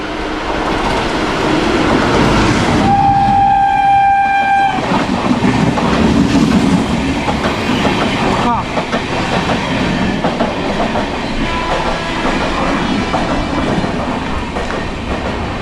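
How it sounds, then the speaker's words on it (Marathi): The LTT–Sawantwadi Holiday Express passenger train rumbles past close by at Adavali railway station with rhythmic clattering wheels, and a loud horn sounds for a couple of seconds early on. "L T T Sawantwadi holiday express ती निघाली"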